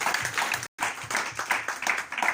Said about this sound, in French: Est-ce qu'on peut les acclamer pour ce service de qualité?